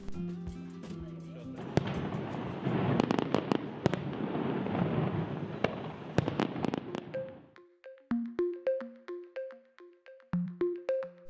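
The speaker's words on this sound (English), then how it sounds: "the locals celebrate the Virgin Carmen by going out with their boats and then setting off fireworks." Fireworks go off at a local celebration for the Virgin Carmen in La Gomera: a run of sharp bangs and crackles over a dense roar, then a series of popping bursts with whistling tones, near and loud, with music underneath at the start.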